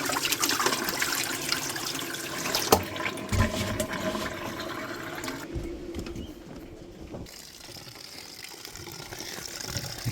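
Water poured into a sink drain with a drainage problem, a steady splashing, gurgling flow up close that fills most of the stretch, with a few sharp knocks and a brief quieter dip before the pouring resumes.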